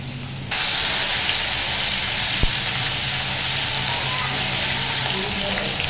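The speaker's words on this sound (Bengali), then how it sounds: "ভেন্ডি গোলামি ভাজি বসিয়ে দিলাম, বরবটি, এই ভাজিগুলো সব একসাথেই করে নেব।" Okra frying in a hot pan with a steady loud sizzle and hiss, close by, after a short quieter start, with one small clink partway through.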